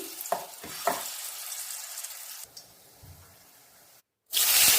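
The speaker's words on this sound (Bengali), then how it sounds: "তারপরে ফেটিয়ে এবার বড়াগুলো ভেজে উঠিয়ে নিচ্ছি।" Chickpea lentil fritters (bora) frying in oil, a hissing sizzle with a few scrapes early on that fades quieter, drops to a brief silence, then returns as a loud bright hiss.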